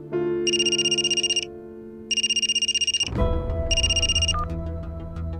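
A phone rings with three bursts of a trilling electronic ringtone, loud and close, with a thump and rustling noise during the last part.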